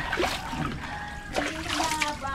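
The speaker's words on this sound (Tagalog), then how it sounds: "Banlawan natin to dito." Water splashes and trickles in short bursts as something is rinsed by a boat outdoors, close by with a few gentle sloshes.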